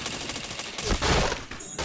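Rapid automatic gunfire in a first-person shooter video game, with headshots and helmet hits, rattles in a dense, loud burst. The firing grows heavier toward the middle and then breaks off abruptly.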